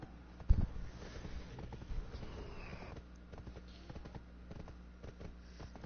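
A tier 5 golden horse in Black Desert Online trots with soft, steady clip-clopping hooves, faint and distant under a low game ambience, with one sharper thump near the start.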